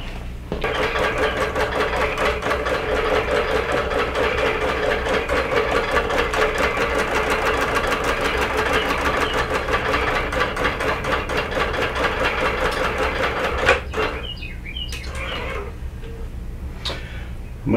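A quilting sewing machine basting a quilt with soluble thread chatters in a rapid steady stitch for about fourteen seconds, close and prominent, then stops, leaving light handling clicks.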